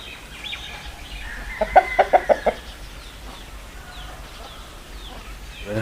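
A fighting hen clucks in a quick run of five or six sharp, loud calls close by, with faint bird chatter and rustling around it, in a Bastar tribal village.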